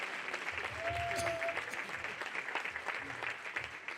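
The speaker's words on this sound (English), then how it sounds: "Everybody, give them a round of applause." Audience applause for YMCA board members at a commemorative Martin Luther King Jr. breakfast, a steady dense clapping that fills the room, with a brief whistle-like tone and some voices mixed in.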